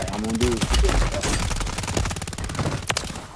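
Rapid automatic gunfire from a fast-firing weapon in the Warzone video game, a loud dense burst of shots crackling over a player's excited voice.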